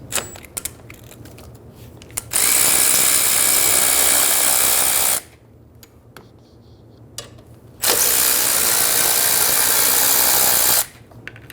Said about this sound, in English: Using a 7mm hex head, unscrew the caliper bolts.